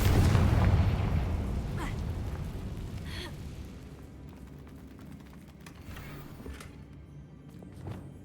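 Spell explosions in Hogwarts Legacy: a loud booming blast opens, then decays into a rumbling tail with a few smaller bursts and crackles scattered through the rest.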